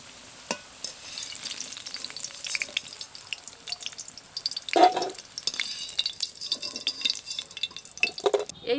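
Large-cut potato pieces frying in hot oil until browned, a continuous close sizzle broken by stirring scrapes and a few louder splashes and clinks.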